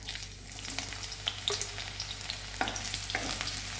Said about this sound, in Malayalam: നമുക്കിതിലേക്ക് ഉള്ളി ഇട്ട് കൊടുക്കാം